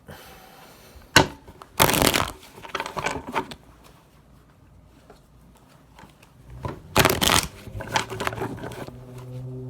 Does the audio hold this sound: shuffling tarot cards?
yes